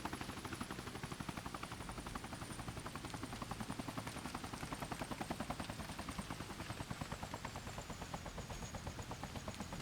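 Helicopter in the Helicopter 2015 video game hovering down toward a helipad, a steady loud rotor chop with fast even blade thumps and a high whine, continuous throughout.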